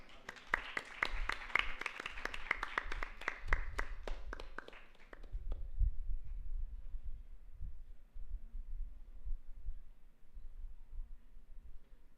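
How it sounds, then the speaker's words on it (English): A few people at a hackathon prize announcement clap in a thin, scattered patter for about five seconds before it fades into faint room hum and low thumps. "Please give a huge round of applause."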